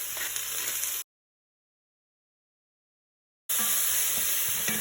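Onions sizzle in a pot with a pinch of salt as the base for chicken tinola, giving a close, steady hiss with faint stirring. The sound cuts out into a few seconds of silence and then comes back.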